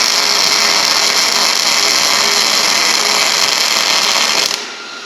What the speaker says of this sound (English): So I'm gonna get the welder out. We're gonna tack these up a little bit.